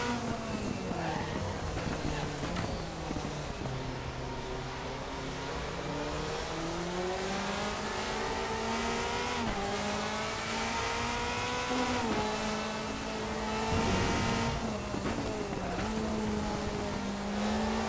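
AI-driven 2005 Mercedes DTM race cars in the RaceRoom racing game roar past with rising and falling engine revs, gear changes and tire noise, a continuous, fairly loud racing soundscape without speech.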